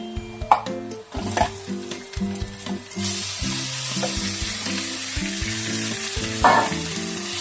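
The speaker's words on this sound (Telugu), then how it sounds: "అల్లం వెల్లుల్లి పేస్ట్ కొంచెం మగ్గిన తర్వాత మనం చికెన్ వేసుకుందామండి" Half a kilo of chicken pieces sizzling in frying ginger garlic paste, a loud continuous crackling sizzle close up, with a few sharp stirring clatters early on and no voices.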